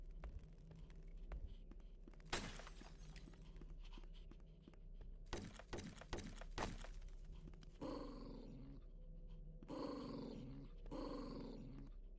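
Growling dogs in the first-person shooter HROT, low rumbling snarls that return in several bursts through the second half, moderately loud amid other game noises and sharp impacts, with no speech.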